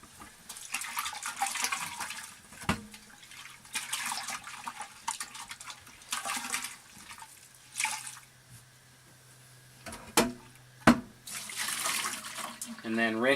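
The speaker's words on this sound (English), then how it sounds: "give this a nice little wash with the vinegar, making sure to wash every part of the jar" A glass jar is washed with vinegar at a sink, with steady running and splashing water from a tap and a few sharper clinks and knocks near the end; a voice speaks over part of it.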